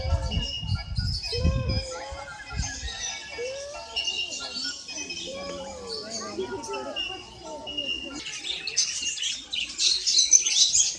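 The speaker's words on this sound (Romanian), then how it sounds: "Uau, ce frumos papagali!" Parrots and other birds chirp and call at a zoo, a busy scatter of tweets and squawks at moderate distance, with people talking nearby.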